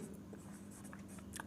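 Chalk or marker strokes on a classroom board during a maths lesson sound as faint, brief scratchy strokes over a low room hum, with no speech.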